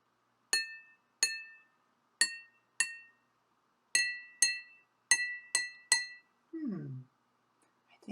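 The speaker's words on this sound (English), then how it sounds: "Wonder if it sounds different if you tap them at the top." Drinking glasses partly filled with water, struck near the rim as a homemade glass xylophone, give about nine separate bright, ringing clinks with decaying tones at uneven spacing, followed by a short voice.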